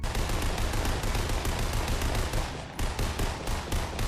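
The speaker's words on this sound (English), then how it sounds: "The Tactical Assault Rifle is here" Rapid, loud automatic fire from the Tactical Assault Rifle in Fortnite, a dense unbroken stream of shots with one brief pause before the burst resumes.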